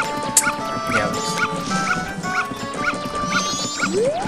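A dog in The Legend of Zelda: Majora's Mask barks repeatedly in short, evenly spaced yaps, close and clear over game music.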